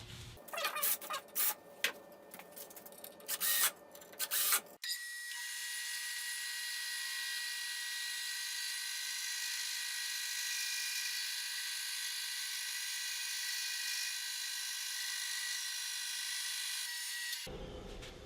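A saw with a sled flattens a Padauk board, starting with a few short, loud bursts of cutting, then a steady, sustained high-pitched whine from the saw running for about twelve seconds, close and without voices.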